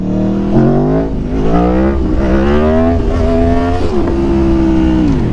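A motorcycle accelerates hard in first gear for a power wheelie, its engine roaring loud and close with rising revs in repeated surging pulls before settling into a steady high drone.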